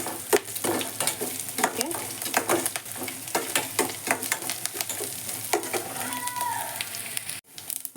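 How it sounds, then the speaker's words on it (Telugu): Chopped ginger frying in a pan, a loud crackling sizzle broken by repeated scraping stirs and clinks, near and continuous, with a brief spoken word toward the end. "కాస్త వేగని మంచి స్మెల్ వస్తుందండి అల్లం తరుగు."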